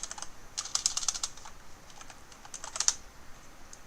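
Typing on a computer keyboard, with close, quick bursts of light key clicks separated by short pauses, and nobody speaking.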